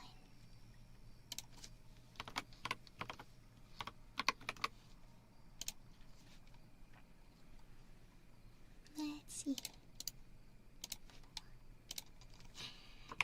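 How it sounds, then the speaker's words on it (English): Quiet, close typing on a computer keyboard in a home work setting, irregular bursts of soft clicks and clacks spread over the whole stretch, with a brief murmured remark from a voice. "This is the keyboard that I use."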